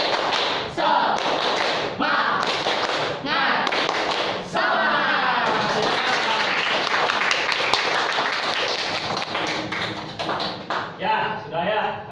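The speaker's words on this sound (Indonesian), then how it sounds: "Oke, tepuk semangat." A classroom of students performs a rhythmic 'tepuk semangat' spirit clap, with patterned bursts of claps and thumps broken by short pauses and mixed with voices chanting and talking.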